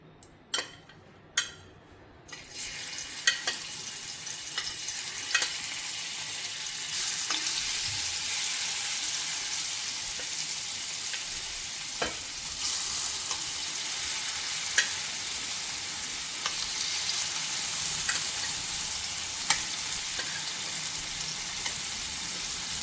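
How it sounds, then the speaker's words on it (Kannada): Paneer shallow frying in hot oil in a pan gives a steady, loud, continuous sizzle, preceded by a few sharp clicks and taps as the pieces go in. "ಈ ಪನ್ನೀರನ್ನು ಈಗ ಇದಕ್ಕೆ ಹಾಕಿ ಶಾಲೋ ಫ್ರೈ ಮಾಡಿ ತೆಗೆಯೋಣ"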